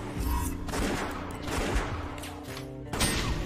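Dense, continuous gunfire in the gritty western twin-stick shooter West of Dead, loud volleys and rapid shots layered over one another with barely a pause.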